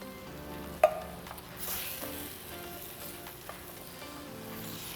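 Butter beans in a tangy curry sauce being stirred in a pan over heat, a steady close sizzle with soft scraping and one sharp clink of the spoon against the pan near the start.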